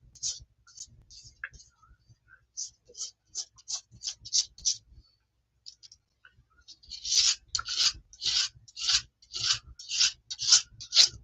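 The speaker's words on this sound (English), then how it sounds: "Just scrape some of this away on here." Paint is scraped away across a sheet of paper in short, sharp rasping strokes. A few sparse scrapes come first, then after a pause a quicker, louder run of rhythmic scraping, all close up with no talk.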